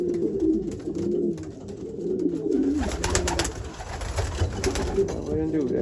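Racing pigeons coo in repeated soft, throaty warbles close by, overlapping one another in a loft, with someone talking intermittently over and between the calls.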